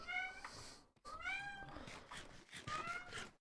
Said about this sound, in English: Make the cat shut up.